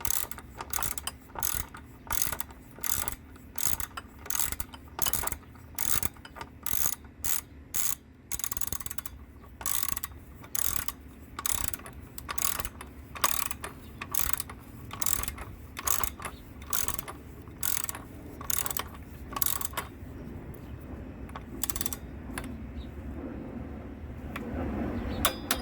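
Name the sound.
ratchet tightening Chevrolet Sonic battery retainer bolt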